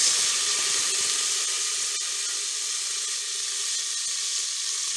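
Small onions sizzling steadily in hot oil in a pan for sambar, with garlic, a constant bright hiss that stays loud and even throughout.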